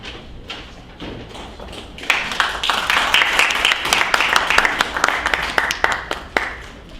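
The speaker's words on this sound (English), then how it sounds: "that was a kind of weak applause" Applause at a radio station town hall meeting, starting after about two seconds and running for several seconds, a modest scattered clapping from a small crowd that fades out near the end.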